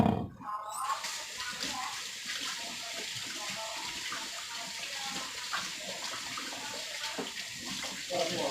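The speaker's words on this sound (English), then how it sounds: "Let me wash my hands" Tap water runs steadily into a sink while hands are washed during turkey preparation, a soft continuous splashing stream heard close by after a brief louder burst at the start.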